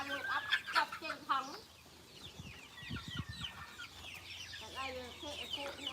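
Chickens and a rooster cluck in a chicken coop on a Thai farm in the morning, with busy overlapping clucks and calls throughout and a voice talking low beneath them midway.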